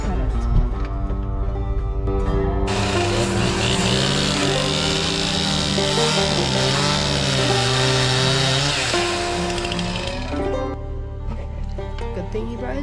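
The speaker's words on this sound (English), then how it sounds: "Good thing he brought his chainsaw." A chainsaw cuts through a big fallen tree blocking a road, its engine roaring loud and close and holding steady for about ten seconds after a short lead-in with other noise.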